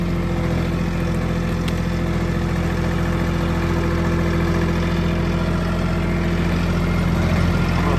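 A tractor engine runs steadily at a low idle-like drone, close and constant with an even mechanical rumble throughout and no talking.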